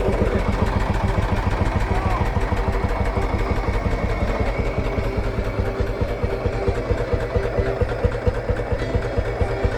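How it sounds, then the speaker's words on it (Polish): An Ursus C-45 vintage tractor engine idles steadily at a vintage tractor rally in Mazovia, Poland, just after starting, with a loud, close, rhythmic low thumping that continues for the whole clip. "Ciągnik gotowy do jazdy zapalił od pierwszego."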